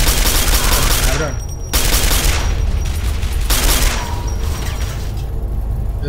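In the video game Quake 4, loud bursts of rapid automatic gunfire crackle in long volleys, separated by brief pauses, with mechanical clatter throughout.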